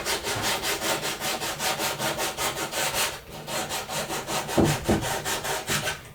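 Hand sanding worked into the many nooks of an antique wooden bed being refinished, a steady back-and-forth scratchy rasp in even strokes, loud and close, with no one talking.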